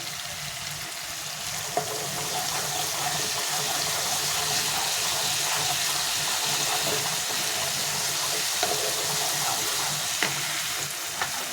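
A spoonful of garlic paste sizzles and spits in a hot pan over a raised gas flame, a steady loud frying hiss with occasional stirring clinks and scrapes, no voices.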